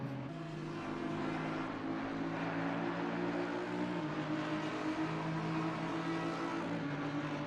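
GT3 race cars, an Aston Martin and an Audi, battle wheel to wheel at the Barcelona circuit, their engines a loud, continuous roar with a steady, layered tonal drone throughout and no voices.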